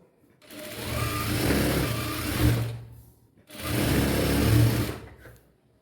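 A sewing machine stitches blouse fabric in two steady bursts of whirring, each a few seconds long, with a short pause between them and soft talk over the motor.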